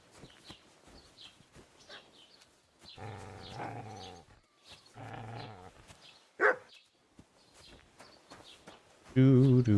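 A dog barks in the medieval video game Kingdom Come: Deliverance 2, with a few loud, close barks and growls scattered across the clip. A person talks intermittently around them.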